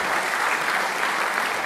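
An audience at a sociologists' college award ceremony claps steadily for honoree Manuel Dammert, a full, even round of applause throughout.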